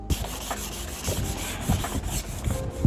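Rough, scratchy hand sanding of a car bumper with short repeated back-and-forth strokes, close up and steady in rhythm.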